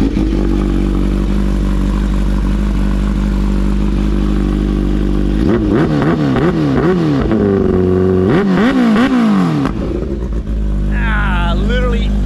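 A Kawasaki Ninja H2 motorcycle on a dyno idles loudly, then its engine is revved in a series of sharp rising and falling blips, with a brief quieter stretch near the end.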